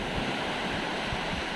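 Ocean waves wash in at high tide on the shore of Pulau Cemara, more than 500 meters from the outer beach edge, as a steady, dense rushing roar with no breaks and no voices.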